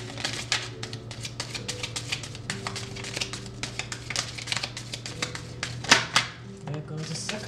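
Tarot cards flicking, tapping and sliding as they are shuffled and drop away from a microphone, a busy run of close, light papery taps and rustles with one louder slap, over a steady low hum.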